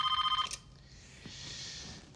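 An old-fashioned telephone bell rings loudly in a rapid trill for about half a second, then stops abruptly, leaving a faint hiss of room noise.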